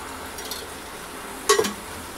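Oil sizzling in a pan while wet coconut masala is fried for butter chicken, a soft steady hiss with a sharp metallic clink of a utensil near the end.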